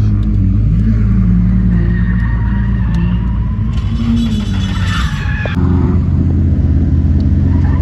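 A car engine running rich in the cold idles loud and close with a deep, uneven rumble, briefly rising in pitch before settling back to a rough, burbling idle.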